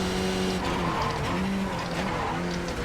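A Skip Barber race car in the iRacing sim braking hard at the line, its tires squealing and skidding in pitched bursts over the continuous engine roar, loud and close with no talk.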